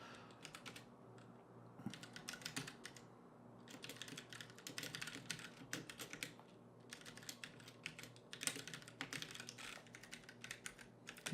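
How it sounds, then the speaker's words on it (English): Fast typing on a computer keyboard, with dense runs of close, soft key clatter broken by brief pauses, faint overall and free of speech. "I'll just type something like test"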